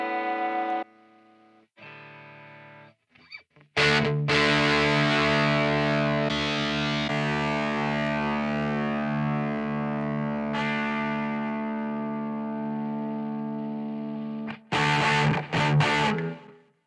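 Electric guitar through a distorted G5 amp patch, recorded for the right-side rhythm part: a few clean-sounding test notes, then a long ringing distorted chord that slowly decays before short chugging stabs.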